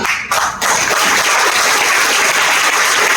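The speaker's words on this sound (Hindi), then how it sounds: "तालियां सब बजा सकते" An audience at a YES event in Ranchi breaks into loud, continuous applause after a brief quiet opening, the clapping dense and steady for the rest of the stretch.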